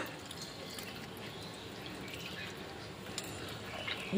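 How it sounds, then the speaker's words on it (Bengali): Water poured onto scooped-out bael fruit pulp in a bowl, a steady close splashing and trickling wash that runs without a break and swells slightly near the end. "বেলগুলো সব বের করে নিয়েছি। এখন জল দেব।"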